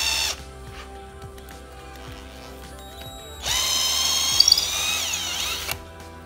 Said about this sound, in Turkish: Ortasından bir delik deldik. Bir de yandan ortaya doğru bir delik deldik.